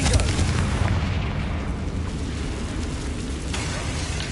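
In a wizard video game, a Confringo spell sets off a fiery explosion that booms loudly and close, followed by a dense rumbling roar that slowly fades and then swells again.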